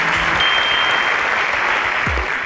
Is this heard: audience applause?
yes